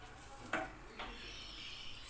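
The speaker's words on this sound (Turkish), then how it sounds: "Salçayı iyice kavurayım." Tomato paste being sautéed in butter in a home kitchen: a soft, steady sizzle with a sharp utensil scrape or clink against the pan, then a second lighter stir, quiet and close.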